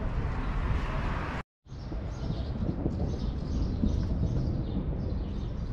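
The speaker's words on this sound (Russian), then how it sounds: "поют птицы" Birds calling outdoors in Kemer, Turkey, with a steady chorus of chirps and coos over a constant wash of wind or distant ambience, continuing after a brief dropout.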